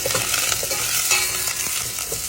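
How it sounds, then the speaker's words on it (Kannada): Steady oil sizzle of onions and curry leaves frying in a pan, with occasional soft stirring scrapes, close and continuous. "ಇದೆಲ್ಲ ಒಂದು 2 ನಿಮಿಷ ಫ್ರೈ ಮಾಡ್ಕೊಳ್ಳಿ."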